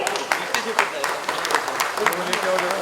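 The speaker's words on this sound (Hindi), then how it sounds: "कृपया जोरदार तालियों से स्वागत करें" An audience applauds to welcome the chief guest at an Independence Day function, with sharp, irregular claps over a busy room and a voice speaking alongside.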